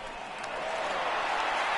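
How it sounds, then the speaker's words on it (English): A home crowd cheers steadily in a baseball game from the MLB The Show 18 video game, a broad sustained roar that swells slightly and carries no clear speech. "the home crowd is loving it as they jumped out in front in the bottom of the 8th"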